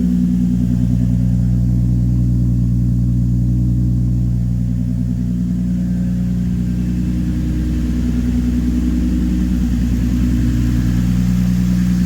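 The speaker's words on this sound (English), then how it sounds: "The sound of that CX Racing exhaust is pretty good." A car with a swapped VQ35DE V6 engine breathing through a CX Racing exhaust holds a deep, steady, close rumble that swells slightly, with a low throb running throughout.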